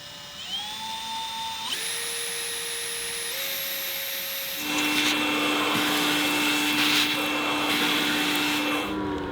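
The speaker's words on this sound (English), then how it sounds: "First hole in our roof rack." A drill spinning up and cutting the first hole into a metal roof rack, a loud, close whine that steps up in pitch, then grinds harder as the bit bites into the metal.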